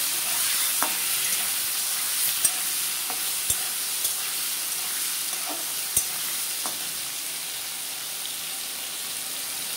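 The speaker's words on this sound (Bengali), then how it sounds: "আলু কলা দিয়ে দেব। এখন ভালো করে নেড়ে দেব।" Potatoes and green banana stirred in a frying pan, a soft continuous sizzle with scattered clicks of a utensil against the pan, steady at moderate level and free of speech.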